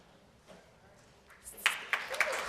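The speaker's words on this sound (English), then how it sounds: "I know we can't help clapping with the students." An audience claps for students at a camp enterprise program gathering, a few scattered claps growing into a short burst of applause, with some talk faintly underneath.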